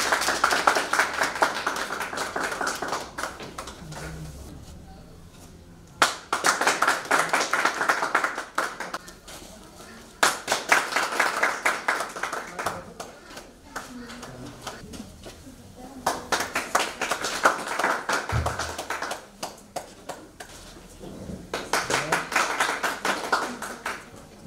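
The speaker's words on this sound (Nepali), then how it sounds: "ताली बजाइदिनु होला है।" At a cooperative's annual general meeting, the audience bursts into rounds of hand-clapping again and again, each lasting a few seconds with quieter gaps between. Faint voices and shuffling fill the pauses.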